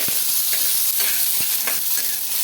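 Garlic and dried red chillies sizzle in hot oil in a pan: a steady, close, dense hiss with a few soft stirring knocks, and no voices.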